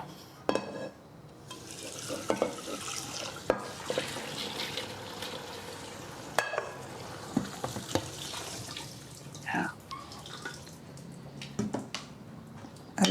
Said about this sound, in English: For the rice to not stick together, I mix it with water.